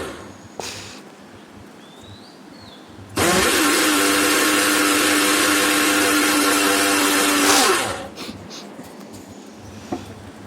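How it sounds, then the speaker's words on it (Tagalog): A blender whirs as it purees matcha with fresh milk and a little water for a creamy frappe. The motor kicks in suddenly, runs loud and steady for about four and a half seconds, then winds down into quiet kitchen background. "Tapos nag-blend po ako. I-blend ko po siya ng pinong-pino."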